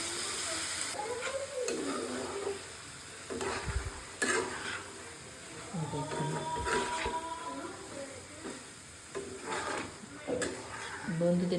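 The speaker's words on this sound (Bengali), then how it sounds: "তো এবার আমি সেদ্ধ করা সয়াবিন সিডস আর আলুটা দিয়ে দেবো।" Boiled soybean seeds and potato tipped into a hot pan for a chicken and soya curry, bringing a steady sizzle and frying hiss with scattered scraping and stirring knocks throughout, close and moderately loud.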